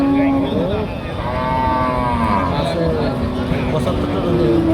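A crossbred dairy cow lowing at a busy Jessore cattle market, a drawn-out moo rising over crowd babble and someone talking nearby.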